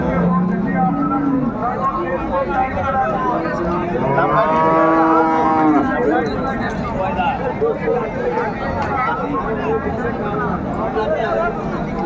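Dairy cows and calves low at a busy cattle haat in Raniganj, Dinajpur, with one drawn-out moo rising clearly over a constant crowd murmur and people talking throughout.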